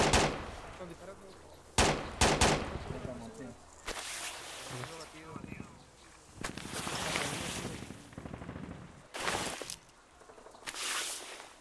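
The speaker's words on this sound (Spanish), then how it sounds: "Están disparando." Bursts of gunfire in the video game Arma 2 during an insurgent patrol in Tora Bora, several sharp loud shots spaced across the scene amid background noise, with people talking over the action.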